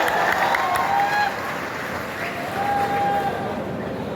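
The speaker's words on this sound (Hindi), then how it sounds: "जरा तालियों की गड़गड़ाहट से बताएं" Audience applause at a large kavi sammelan poetry gathering in Kekri town, a dense, steady wash of clapping from a big crowd that carries on unbroken for about four seconds, dipping slightly midway.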